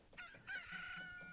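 A cuckoo chicken in Zelda: Majora's Mask squawks and clucks, a few quick bright calls rising into a drawn-out crowing cry, fairly faint and alone without talk.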